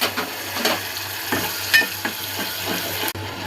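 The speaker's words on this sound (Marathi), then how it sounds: "आता मी हे तेल तापत ठेवले, त्यात मसाला सोडते." Masala spices fry in hot oil in a pan, a steady sizzle with soft stirring scrapes at regular intervals. It is close and continuous, then cut off sharply at the end, with no talking.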